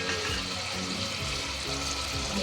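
Curry leaves sizzling steadily in hot oil with onions and green chillies for Telangana-style mutton curry, a continuous close crackle with no speech.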